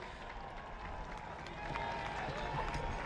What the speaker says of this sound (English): A round of applause from those lining the route.